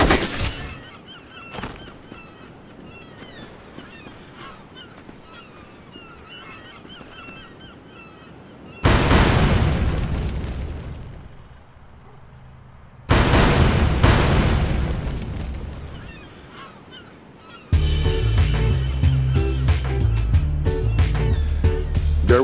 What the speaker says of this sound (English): There was a terrible explosion at the refinery.